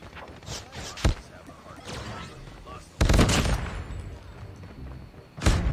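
Bursts of gunfire from the mobile shooter game Call of Duty Mobile, loud sharp shots at about one, three and five and a half seconds with softer rattling between, mixed with a player's chatter.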